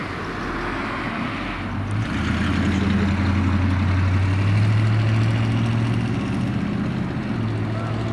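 A 1979 GMC K1500 Sierra Grande 4x4 pickup's engine runs steadily, a deep low rumble that rises as the truck begins moving and holds, close and continuous with some faint voice underneath.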